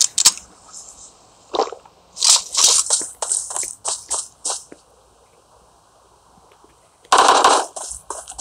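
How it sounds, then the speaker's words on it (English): Loud, close automatic gunfire in the mobile battle royale game PUBG Mobile, rapid bursts of varying length separated by short quiet gaps, with a final heavy burst after a longer pause. "Oh, they shoot me."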